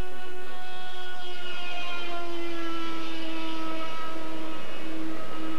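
A model ducted-fan jet aircraft takes off at a 1993 scale model flying contest, its steady, loud turbine whine holding a slowly shifting pitch throughout with no voices.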